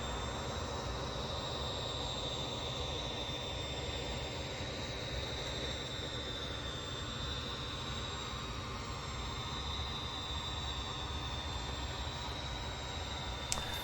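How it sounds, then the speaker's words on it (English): A passenger train rolls past in a Train Simulator 2020 New Jersey Transit run, a steady broadband rumble with a thin sustained whine, holding level for the whole stretch with no talk. "Oh, passenger train moving by."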